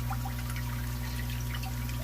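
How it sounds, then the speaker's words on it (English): Water trickles and splashes from the side hole of a small 250-gallon-per-hour aquarium power head with its spout removed, a faint steady flow over a constant low pump hum. "you can see some of the water still comes out that side, out that hole there"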